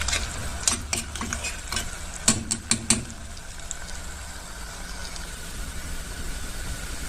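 Onions frying in oil until dark for fish sayadieh rice, a loud continuous sizzle with a burst of sharp scraping stir strokes early on, then a steady hiss.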